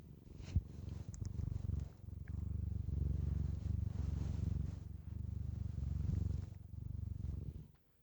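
A cat purring up close, a steady low rumbling purr in long rhythmic waves, soft and continuous with a brief rustle near the start.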